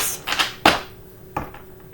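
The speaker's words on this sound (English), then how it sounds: "I'm going to give these one more shuffle." Tarot cards being shuffled by hand, giving a few short papery riffles and soft slaps in a quiet room.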